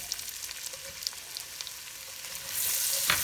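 Onions sizzle and crackle steadily in hot butter in a pan for chicken and dumplings, the frying swelling louder and hissier toward the end, with no one talking.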